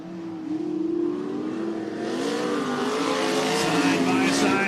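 Dirt-track race cars at Cottage Grove Speedway in Oregon roar side by side into a turn, engines loud and sustained, rising as they pass, with a commentator's voice running underneath.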